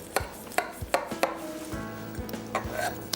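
Knife cutting into a freshly baked lasagna in its dish, with a series of sharp taps and scrapes against the pan at a steady rhythm, close and fairly quiet.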